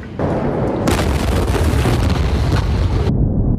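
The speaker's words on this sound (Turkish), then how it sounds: "Bu da patlamanın şiddetini gösteren en net görüntü kaydı." A loud explosion erupts into a roaring, crackling blast that lasts a few seconds before cutting off.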